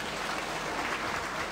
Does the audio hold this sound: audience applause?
yes